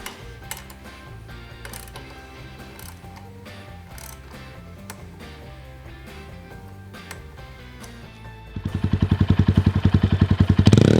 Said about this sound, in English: we're going to go ahead and torque down the muffler clamp to 28 inch-pounds of torque.